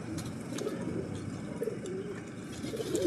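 Pigeons coo repeatedly nearby in soft, throaty calls over a low background hum.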